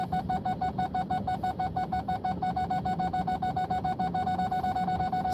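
A car's parking sensor beeps rapidly and evenly while reversing toward an obstacle, a loud, repeated electronic tone in quick succession with no talking.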